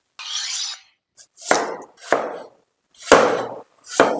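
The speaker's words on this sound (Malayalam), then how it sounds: "ആദ്യം തന്നെ സവാള അരിഞ്ഞ്" An onion being chopped with a knife on a board while making Kerala-style quail curry: several distinct, fairly close knife strokes about half a second apart, with no talking.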